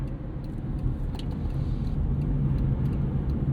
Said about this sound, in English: Let's see what these Delentes can do around a corner.